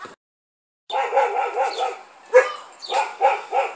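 Dogs bark loudly and close by in a rapid run of repeated woofs, followed by a sharp yip and another burst of barking, with no talking.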